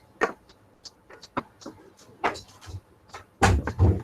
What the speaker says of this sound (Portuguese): deixa eu abrir a porta aqui